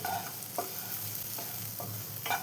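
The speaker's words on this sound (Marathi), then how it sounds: "व्यवस्थित असं परतून घ्यायचं" Coconut and dry fruits, including watermelon seeds, being sautéed in a pan for Krishna Janmashtami coconut laddoo prasad, a steady soft sizzle with several spoon-stirring scrapes spaced through, no voices.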